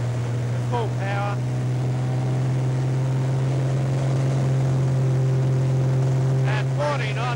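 A PL-12 agricultural aircraft with a 300 hp engine running at full power for takeoff, a loud, steady, droning propeller roar heard from inside, with a voice speaking briefly over it.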